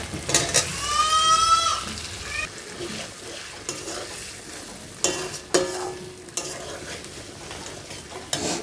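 Masala with tomato sauce frying in a pan for a pointed gourd korma while being stirred, a soft sizzle broken by several sharp scrapes and knocks of a spoon against the pan, with a brief squeaky tone early on.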